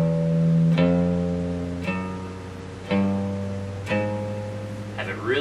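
Electric guitar playing single notes of a chromatic scale in first position, each note plucked separately with clear gaps and re-attacks roughly once a second rather than smoothly connected, sounding close and alone.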